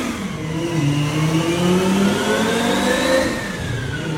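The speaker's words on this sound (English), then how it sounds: "The twin turbo Lamborghini Gallardo, that car is on the dyno right now." A twin-turbo Lamborghini Gallardo engine revs hard on a dyno, its pitch climbing and sweeping in a loud, continuous run with steady mechanical whine.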